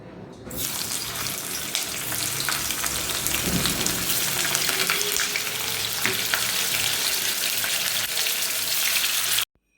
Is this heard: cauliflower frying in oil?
yes